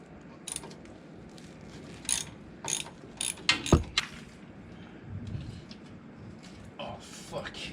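Ratchet wrench clicking as it undoes a 10 mm bolt on the shock of a 1999 Ford E250 van, a series of short, close ratcheting bursts with a sharp clank partway through, over low background noise and occasional voices.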